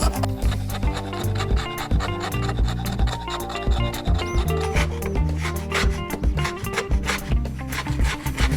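A scraper rasps old bottom paint off a boat hull in quick, close repeated strokes, a steady gritty scratching that runs without pause.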